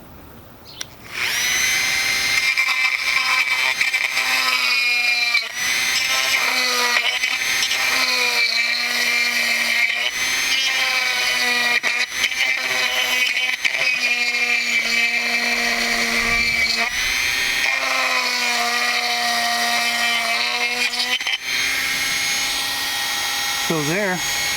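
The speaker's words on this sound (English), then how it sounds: "I'm going to try this Dremel, and I'm going to try cutting out the holes, and so it's already drilled out there, and just kind of grind the edges off with this." A Dremel rotary tool grinding the edges of a hole in a plastic GoPro waterproof case, giving a loud, close, high-pitched whine that holds steady with brief pitch dips as it bites into the plastic.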